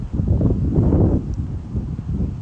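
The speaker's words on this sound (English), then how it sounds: "It is very windy." Gusty wind buffets the microphone with low rumbling roars that swell and fade.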